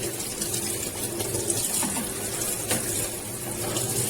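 Water runs steadily from a tap in a bathroom, splashing onto motorcycle gear being rinsed, a continuous close hiss with no talk.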